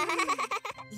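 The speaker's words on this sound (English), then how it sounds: "I heard a sheep." A cartoon sheep bleats in a wavering, shaky baa from a kids' cartoon, loud and close, with a short voiced tail at the end.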